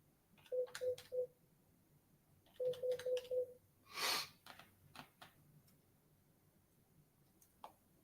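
An office desk phone is dialed, two quick runs of faint keypad tones, four beeps then five, followed by a short ringing burst and a few soft clicks in a quiet room.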